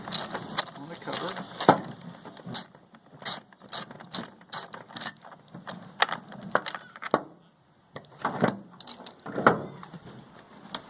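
A ratchet wrench clicks in quick bursts as it loosens the 10mm bolt on the cover of a WEN 2350-watt inverter generator, close and crisp, with short pauses between runs and a person talking over parts of it.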